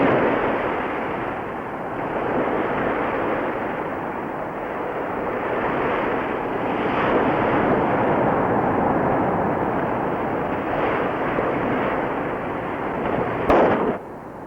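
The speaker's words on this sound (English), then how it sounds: "When these people make a firecracker, they don't screw around." Large firecrackers going off in San Blas, Mexico, in 1971: a dense, continuous roar of bursts with swelling peaks and a sharp louder crack near the end.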